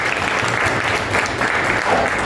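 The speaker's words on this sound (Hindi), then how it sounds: "उनके लिए जोरदार तालियां दोस्तों" Loud, dense applause fills a short stretch as a crowd at an IBC party in Raipur claps for CP sir, steady and close throughout.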